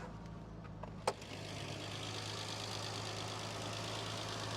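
A 1970 Jaguar E-Type S2 engine idles at a slightly raised speed, giving a steady, even hum with a faint mechanical knock. One brief click sounds near the start and nobody speaks.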